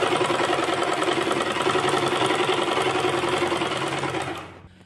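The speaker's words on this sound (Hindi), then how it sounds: "देखिए इस पे मशीन को रखेंगे और जैसे ये हमारी शेप बनी हुई है, सेम ऐसे सिलाई लगाएंगे।" Sewing machine running steadily to stitch pleats into a kurti, a continuous close whir of needle and motor lasting several seconds before stopping abruptly near the end.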